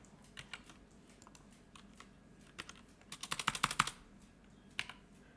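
Keys clatter on a computer keyboard in scattered taps, then a quick burst of rapid typing and a final isolated keystroke, close and fairly quiet with no talking.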